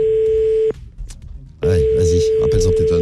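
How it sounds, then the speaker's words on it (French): A steady high fax tone comes through a phone line during a radio call, loud and continuous, broken by a short gap of voices before the tone resumes under people talking. "Ah bah, il marche bien le fax, dis donc."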